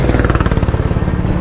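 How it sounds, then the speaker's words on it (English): Thai farm truck powered by a sideways-mounted walk-behind tractor motor passing close by, a loud, rapid single-cylinder chugging with a steady throbbing beat and some clatter. "That's a tractor motor in the front of it."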